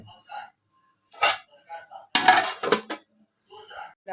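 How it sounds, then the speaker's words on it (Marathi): A lid is set on a pot of simmering mung bean usal. It gives a few close metallic clinks and clatters separated by quiet pauses. "आता त्याला आपण झाकण ठेवूया।"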